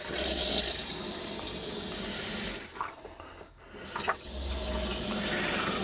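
Steady rush of water streams from a newly replaced sink faucet in a Carthago C-Chic line motorhome, running close and continuous, briefly dropping away mid-flow before resuming strongly.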